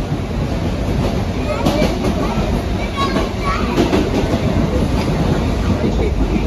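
Ride inside a moving passenger train in West Bengal: a steady, loud rumble with clattering wheels and carriage noise throughout, and people talking faintly under it.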